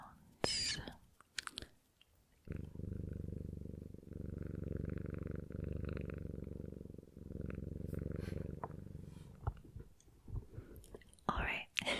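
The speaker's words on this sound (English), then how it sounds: "I will see if I can actually get some purring sounds" A cat purrs close to a microphone in an ASMR setting, a steady low rumbling drone lasting several seconds, framed by brief rustles and handling noises at the start and end.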